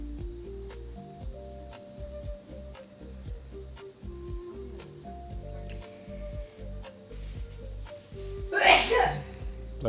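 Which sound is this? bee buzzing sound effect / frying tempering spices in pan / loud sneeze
loud sneeze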